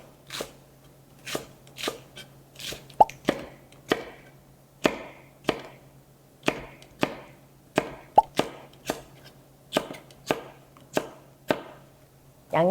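Knife chopping blanched winter cabbage into three or four pieces on a cutting board, about fifteen sharp, evenly spaced thuds close by with a quiet pause between each cut.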